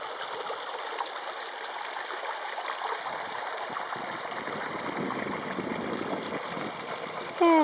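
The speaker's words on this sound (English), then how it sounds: "You can hear all the water." Water rushes and trickles over rocks in a creek on the Bluff Springs Trail in the Superstition Mountains, Arizona, a steady close wash that swells slightly midway, with a brief sharp sound at the very end.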